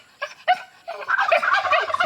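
A turkey gobbles in a few short bursts that swell into a longer rolling gobble, fairly loud and close in a backyard full of assorted farm animals.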